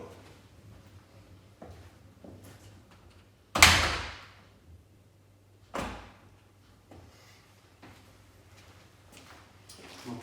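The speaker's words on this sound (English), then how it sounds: "I am going to shut the door." A door is shut in a quiet home while a dog is left in its crate, giving one loud sharp bang followed a couple of seconds later by a softer second thud, with faint room noise between.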